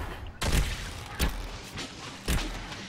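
Gunshots fired in the video game Dragon Age Inquisition: three heavy booming shots spaced about a second apart, loud and punchy with rumbling tails, no voices.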